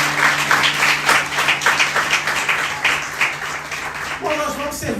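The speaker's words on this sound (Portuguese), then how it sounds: "Será que você pode dar uma salva de palmas ao Senhor?" Church congregation applauding after a call to praise the Lord, dense clapping running steadily throughout, with a voice speaking over it.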